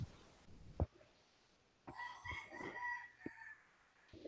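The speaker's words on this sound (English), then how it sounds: "the roosters are happy this morning" Farm roosters crow in the morning, one long, wavering cock-a-doodle-doo rising midway with harmonics, preceded by a brief sharp knock and a few clucks, moderately near and alone.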